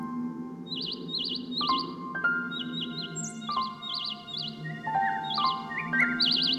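Small robin chirps sound in quick repeated bursts, high and clear, over a soft steady background with occasional bell-like tones.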